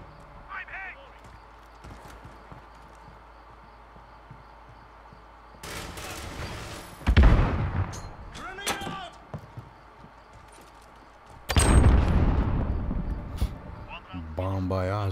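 Suppressed M13 rifle fire in a Call of Duty: Modern Warfare 2v2 match, heard as loud bursts of muffled shots near 7 and 12 seconds, with game effects and voices talking throughout.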